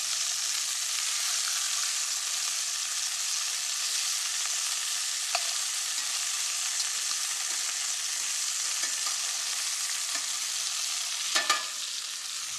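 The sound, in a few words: meat browning and sizzling in a pan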